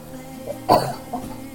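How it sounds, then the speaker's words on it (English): One short, sharp cough rises above quiet background murmur during a relaxed art stream, from a person still getting over a cold. "there's still that cough that just will not let me"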